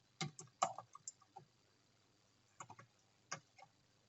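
Soft, close clicks of a computer keyboard being typed on, in a short cluster followed by a pause and then a few scattered keystrokes.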